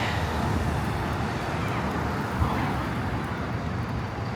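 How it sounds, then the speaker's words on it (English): Two school buses passing on Queen's Plate Drive in Etobicoke, Toronto, a steady broad road rumble of nearby traffic with no pauses. "Oh, we got like 2 school buses."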